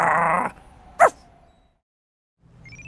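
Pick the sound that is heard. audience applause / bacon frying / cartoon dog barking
cartoon dog barking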